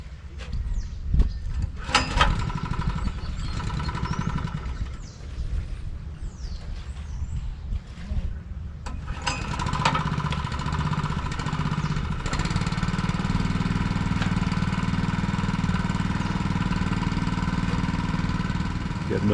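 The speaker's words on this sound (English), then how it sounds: "Getting the pump ready." A small engine-driven water pump idles and runs steadily while a flooded basement is drained, with knocks and clunks of handling early on, then a continuous mid-pitched engine drone that grows fuller.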